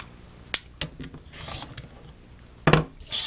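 Scissors cutting quilting fabric during paper piecing: a few sharp snips spaced apart, with a louder double snip near the end and soft handling noises between, no talking.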